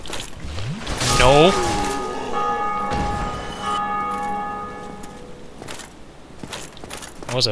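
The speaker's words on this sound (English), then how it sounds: "What was that bell for?" A bell rings in Dark Souls, a loud metallic strike with a long ringing tone that slowly fades, while someone talks over it and faint game noises continue.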